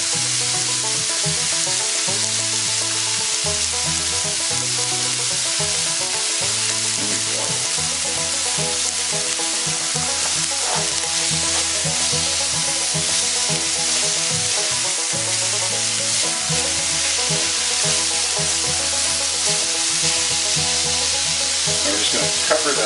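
Wild mushrooms, wild plants and bulbs stir-fry in a pan with ramen noodles, giving a loud, constant close sizzle with the rhythmic scrape of stirring throughout.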